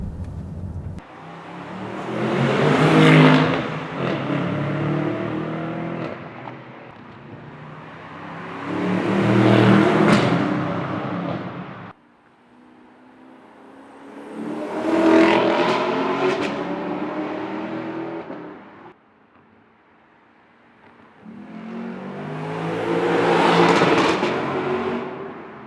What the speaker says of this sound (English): we're gonna have to do a little exhaust test here to see which one sounds better